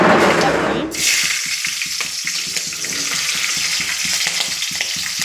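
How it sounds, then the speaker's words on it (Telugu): Green chillies and tempering spices fry in hot oil in a kadai for an egg fry, giving a loud, steady close-up sizzle with rhythmic clinks of stirring. It follows a brief moment of quieter hiss. "ఆయిల్ వేడెక్కింది పోపు దినుసులు వేసాను అనమాట ఇప్పుడు వాటిలో కొద్దిగా పచ్చిమిర్చి"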